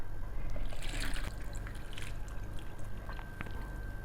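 Garlic tincture is poured into a milk bag strainer set over a bowl, a soft continuous trickle and splash of liquid with faint low background hum.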